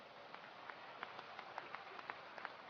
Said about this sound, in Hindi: तो इस पे तो जोर से ताली बजाओ ना।